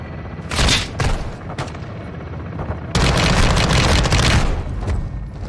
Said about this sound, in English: This gun looks like it shoots fast.